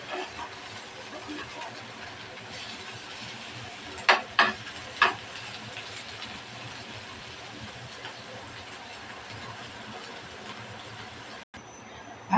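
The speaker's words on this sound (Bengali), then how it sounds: "আবার একটু ভাজিটা উল্টিয়ে পাল্টিয়ে নাড়াচাড়া করে নেব" Bitter gourd fry sizzling steadily in a pan, a continuous close frying hiss with a few brief scraping clacks of a spatula being stirred through it partway along.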